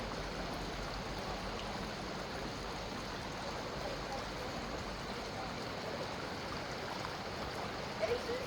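A chilly river in the Pyrenees flows steadily, a broad continuous rush of moving water close by, with faint voices now and then in the background.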